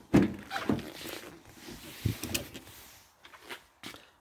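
Folding electric door mirrors on a used car work with a few short motor whirs and soft thunks spread over several seconds, fairly quiet, with no talking.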